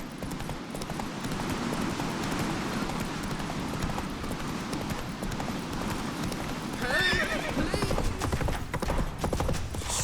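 A horse gallops and neighs in The Witcher 3: Wild Hunt, with loud rapid hoofbeats pounding steadily throughout and a whinny near the end, mixed with in-game ambience.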